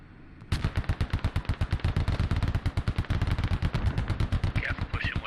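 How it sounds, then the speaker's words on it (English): Rapid machine-gun fire from a tank in a tank battle video game, loud sustained bursts of evenly spaced shots running almost without pause, with a faint voice near the end. "this tank's just storming in, gunning down these guys"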